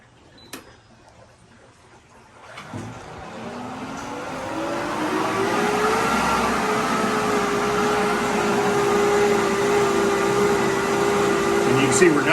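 A pool pump and sand filter start up after backwash on the rinse setting, a rising motor whine that settles into a loud steady hum with water rushing through, following a few clicks and handling sounds.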